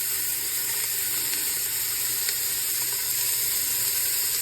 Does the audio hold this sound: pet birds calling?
no